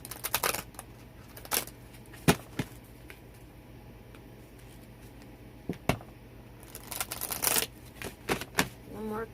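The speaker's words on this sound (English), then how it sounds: "One more card out. This is an oracle card." Oracle cards being shuffled and drawn: sharp riffling bursts and soft flicks of card stock at irregular intervals, close and fairly quiet over a low background hum.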